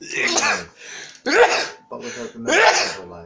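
A person sneezes once in the middle of ongoing conversation, a short sharp burst between stretches of clear talking.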